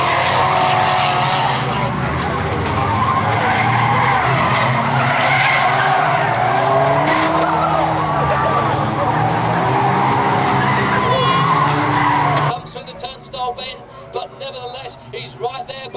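Race cars, including a Ford Escort, roar and skid around Bovingdon Raceway in a loud, continuous wall of engine and tyre noise, dropping abruptly near the end to a thinner, more distant engine drone.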